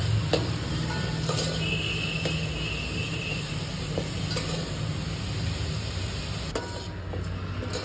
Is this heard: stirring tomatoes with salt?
yes